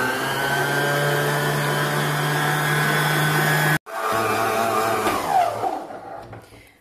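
Stand mixer kneading baguette dough, a loud steady motor whir with a constant hum that cuts out abruptly, then restarts with a wavering, slowing whine before fading near the end.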